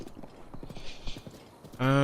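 A horse gallops in Zelda: Breath of the Wild, its hooves beating a steady, rhythmic clip-clop at moderate volume before a bright, sustained tonal sound cuts in at the end.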